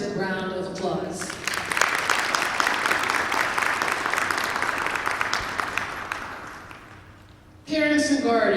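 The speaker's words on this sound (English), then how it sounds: "let's give the staff, Urban Pathways work family, a well-deserved round of applause" Applause fills a 6-12 charter school graduation ceremony, a dense wave of clapping that swells, holds, then fades, with a speaker's voice heard before it rises and again after it dies down.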